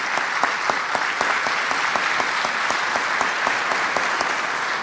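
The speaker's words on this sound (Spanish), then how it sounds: "la congresista peruana Patricia Chirinos, para quien pido un aplauso también." A conference hall audience gives steady, sustained applause, dense clapping from a large crowd that holds at an even level throughout with no talking over it.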